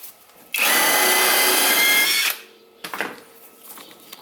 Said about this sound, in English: And then I'm loosening the top bolts.